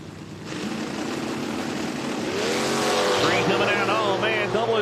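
Drag cars at a Lights Out 7 eliminations event, a Nova among them, launch down the track. Their engines roar loud and steady, pitch rising over several seconds, with a voice faint in the background.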